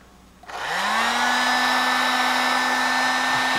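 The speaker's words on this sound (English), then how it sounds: "Blow dryer has a habit of taking a long time" A blow dryer switches on and runs loud and steady, its whine rising briefly as the motor spins up, then holding a constant airy roar near the mic with no talk.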